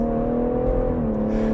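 A BMW 140i with a Remus exhaust accelerates hard, its loud, steady engine drone climbing in pitch with a strong exhaust tone, close and continuous for the whole moment.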